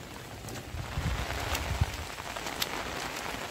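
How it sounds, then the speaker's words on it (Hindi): Soft rain falling in a village during the rainy season, a steady faint wash of drops with a few slightly louder patters, no one speaking. "बारिश है।"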